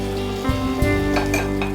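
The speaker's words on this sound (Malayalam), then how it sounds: "അപ്പോൾ ഇത് മീൻ വഴറ്റിയതാണ്," Fried seer fish pieces being sautéed in a pan, a steady loud sizzle with a spatula scraping and stirring and a few light clinks of the pan.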